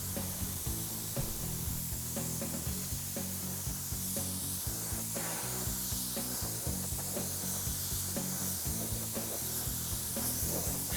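A small paint spray gun hisses steadily while coating a car's firewall, with a continuous near airy spray broken by faint short clicks and pauses between passes; no one speaks.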